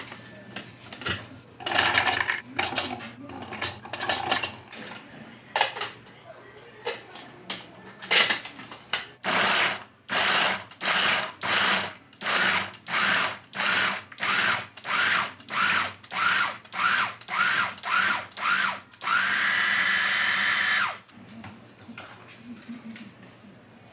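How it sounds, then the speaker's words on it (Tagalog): An electric blender grinds spices for a chicken lumpia filling in a home kitchen, running in short repeated pulses that rise to a sustained whir near the end, with speech at the start. "i-blender natin ang ating mga spices para mabilis tayong matapos"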